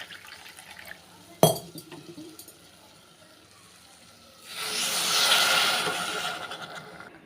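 Water poured into a cup of jaggery, starting with a sharp knock, then a short quiet spell before a steady, hissing pour that swells for a few seconds and fades.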